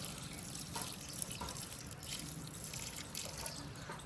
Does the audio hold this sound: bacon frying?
no